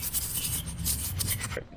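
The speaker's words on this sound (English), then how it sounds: "I'm gonna scrub that in, move that out of the way." A brush or cloth scrubs cleaner into the engine bay of a Toyota Camry, making a close, continuous rubbing and scratching sound that stops abruptly near the end.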